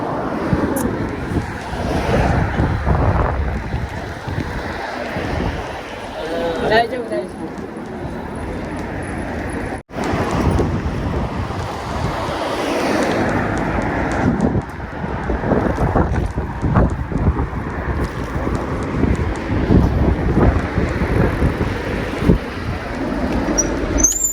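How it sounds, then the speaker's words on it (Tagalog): Strong wind roars and buffets the microphone steadily, with water and boat noise underneath and no clear talk. "Malakas yung hangin."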